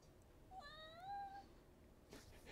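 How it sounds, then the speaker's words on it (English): A domestic cat meows once indoors: a single drawn-out, wavering meow, fairly close and clear against a quiet room, followed by a brief rustle. "Oh, there goes my cat."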